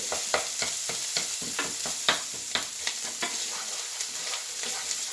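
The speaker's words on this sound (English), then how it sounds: "Keep stirring it so nothing sticks." Browning onions in a pan, sizzling steadily up close while a spatula scrapes in quick, regular strokes, roughly two or three per second, with no talk.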